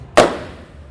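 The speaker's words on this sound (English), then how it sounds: "So here we have gold streamers, bit of a bang, guys." A stage streamer cartridge fires gold streamers with a single sharp bang, loud and close, followed by a brief fading tail.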